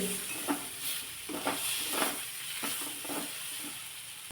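Brinjal curry coated with gram flour is sautéed in a pan, a soft steady sizzle with periodic stirring scrapes roughly every half second to second.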